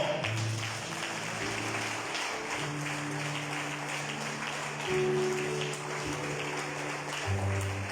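A church congregation claps loudly and steadily throughout, a dense wash of applause with sustained music tones underneath.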